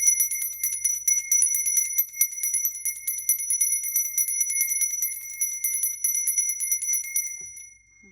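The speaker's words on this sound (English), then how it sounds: "I'm going to ring my bell." A small bell rung rapidly and continuously, bright, sustained tones shimmering for several seconds up close before fading out, with no talk.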